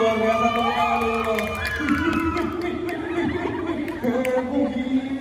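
School audience at a mall stage event in Makassar cheering and chattering, with scattered laughter and a busy crowd roar that swells and falls, voices mixed throughout.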